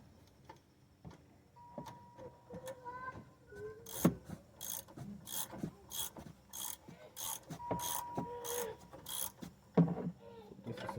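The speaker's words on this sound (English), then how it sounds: "I'm gonna have to hold it here with the 18 millimeters wrench, and I can go ahead and loosen it up." Mechanical ratcheting and clicking of an 18 mm wrench loosening a bolt on a car's brake assembly, with repeated short metallic clicks and bursts of bright scraping in an irregular rhythm, close and moderately loud.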